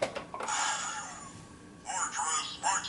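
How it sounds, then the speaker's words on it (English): Electronic toy blasts of warbling, chirping laser zaps from a Transformers Titans Return Fortress Maximus figure, a few bursts in quick succession, close and fairly quiet, with no talking. "More laser sounds."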